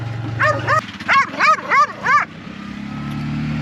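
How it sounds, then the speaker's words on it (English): A dog on a Peru highway lets out a quick run of about six sharp, whiny barks and yelps, fairly close and loud over steady vehicle engine rumble, then falls quiet while the road noise continues. "That's an ugly dog."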